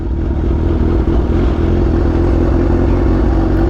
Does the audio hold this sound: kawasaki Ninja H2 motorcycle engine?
yes